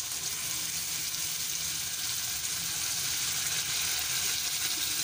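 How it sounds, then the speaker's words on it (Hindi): A pan of spicy chicken and vegetable macaroni sizzles steadily and fairly loud as chili sauce goes in, a constant bright hiss with no pauses and no voices. "ये देखें, ये चिली सॉस है, इसको मैं 2 टेबलस्पून डालूँगी इसके अंदर अंदाजे से।"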